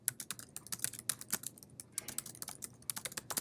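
Rapid keystrokes on a computer keyboard, close and crisp, in quick uneven bursts with brief pauses, no voices.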